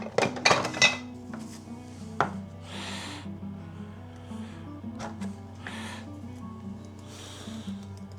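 Pumpkin dish being transferred into a bowl in a kitchen, with a cluster of sharp clinks and scrapes early, then softer intermittent rustles and knocks of utensils against dishes.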